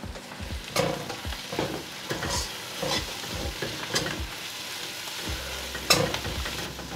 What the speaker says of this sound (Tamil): உப்பு சேர்த்தால் வெங்காயம் குயிக்காக வதங்கிடும்